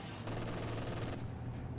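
Sustained bursts of gunfire from a real-time strategy battle in Company of Heroes 2, including an MG42 machine gun, dense and steady for most of the stretch, then tapering slightly.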